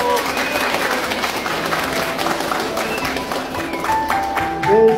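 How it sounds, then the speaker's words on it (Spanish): Guests at an engagement gathering give a couple loud, sustained applause, a dense wash of clapping that runs the whole stretch with a few voices mixed in. "Como signo, unos sonoros aplausos de ustedes."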